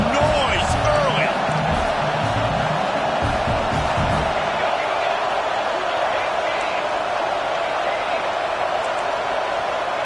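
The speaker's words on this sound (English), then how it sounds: "This crowd bringing the energy and noise early." Loud, dense roar of a football stadium crowd at an Aggies versus Oklahoma game, a steady wash of cheering and noise filling the whole span, with scattered thumps and voices mixed in early on.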